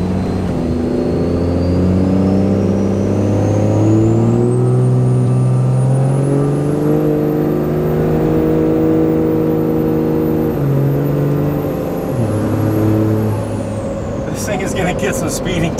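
A 600+ hp Cummins diesel pickup truck launching from 0 to 60, its engine roaring loud and close as the pitch climbs steadily through several gear shifts, with a rising turbo whistle over the top and a hiss near the end.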